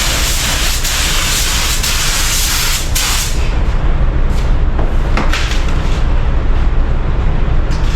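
A paint spray gun lays down base coat in a loud, steady hiss of atomized spray that runs continuously at close range, its texture shifting slightly partway through.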